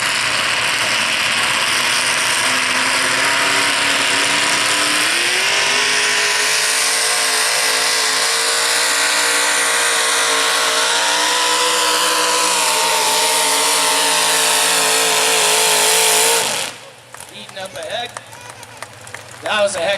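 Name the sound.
modified mini tractor pull engine roaring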